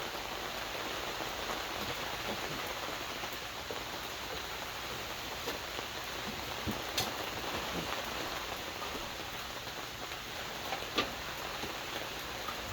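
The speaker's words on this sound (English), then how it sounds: "as you can see, it's raining like can be" Heavy rain pours down outdoors by a workshop on a cool day, a dense, steady hiss with scattered drips and ticks throughout and no voices.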